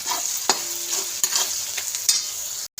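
Fried onions seasoned with salt are stirred in a pan, a steady sizzle broken by several spoon scrapes and taps at uneven intervals, close and fairly loud, with no voices.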